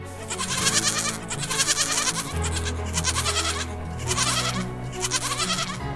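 Young goat kids bleat repeatedly in a loud, close chorus of wavering cries in a rural village, overlapping calls rising and falling with only brief gaps.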